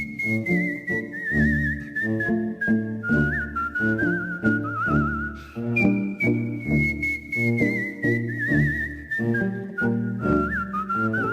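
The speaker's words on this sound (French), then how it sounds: "Il a un talent indéniable de siffleur" A stage performer whistles a melodic tune over instrumental accompaniment, the clear, pitched whistle gliding and trilling above rhythmic chords, prominent and continuous with no talking.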